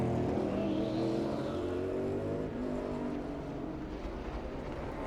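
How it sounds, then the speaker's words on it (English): NASCAR Cup Series race cars lapping the track in qualifying for the Verizon 200: a steady, loud engine drone with shifting pitch as cars accelerate and pass, continuous throughout with no voices. "We got a track full of cars."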